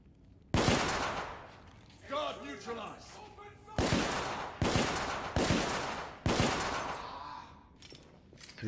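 Gunfire in the video game The Order 1886: several heavy, booming shots with long reverberant tails, spaced roughly a second apart, near and loud, with a brief stretch of clinking mechanical sounds between the first shots.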